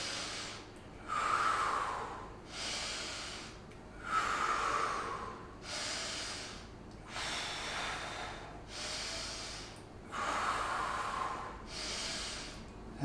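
Repeated heavy breaths during a banded seated row exercise, with long, forceful exhales and inhales coming in a steady rhythm of about one every two seconds, close up and with no one talking.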